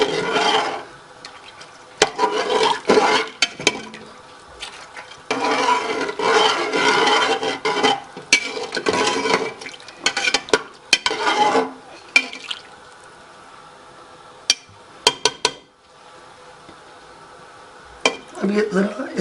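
A spoon stirs beef nihari in a pot while soaked flour is gradually added, giving repeated scraping, rubbing strokes in uneven bursts with short pauses and occasional clinks against the pot.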